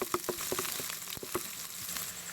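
Garlic sautés in a hot pan for pancit canton, a soft, steady sizzle with crackling pops and light scraping stirs, heard alone and fairly quiet.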